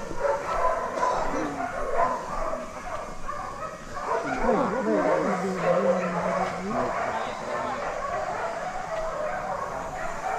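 Dogs yip and bark in short bursts with a whining edge, mixed into a busy background of people talking.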